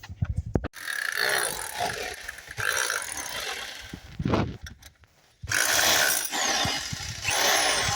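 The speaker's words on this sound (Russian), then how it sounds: "Сейчас я найду перо, прорежу отверстие" A spade bit bores a hole during plumbing work, a loud, rough power-drill whine running in long bursts with short pauses and a brief dropout between them.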